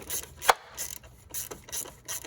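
Ratchet clicks in short bursts as bolts on a Ford Explorer thermostat housing are snugged down, several quick pawl runs separated by brief pauses, close and fairly quiet.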